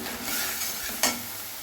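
Spice paste for a katla fish curry frying and being stirred in a pan, with a steady close sizzle throughout and one brief sharper scrape of the spoon partway through.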